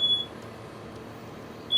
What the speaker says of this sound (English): There's the smoke alarm.